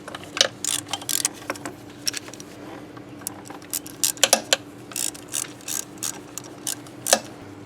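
A ratchet tightening a power steering hose fitting on a 2005-2010 Honda Odyssey, bursts of quick clicking strokes repeated with short pauses, close and crisp over a low steady hum.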